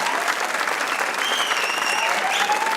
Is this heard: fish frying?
no